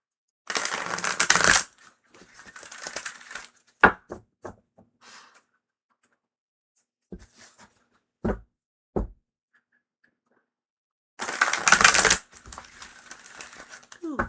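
An oracle card deck being shuffled by hand: bursts of crisp riffling and papery crinkling separated by scattered taps and soft knocks, close up, with pauses of near silence between the shuffles.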